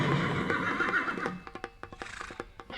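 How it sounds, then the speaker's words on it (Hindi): A horse whinnies loudly and close, a long shaky neigh followed by a series of short snorting pulses and faint hoof clip-clops. "पिताश्री, घोड़ा आवाज भी दे रहा है। आवाज कर रहा है बेटा"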